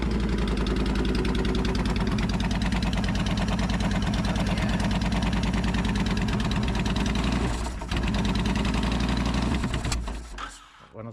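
A 2004 Honda VTX 1300 motorcycle with starting trouble runs loud and close, its air filter removed, with a steady rapid thumping idle that holds for about ten seconds before the engine cuts off near the end.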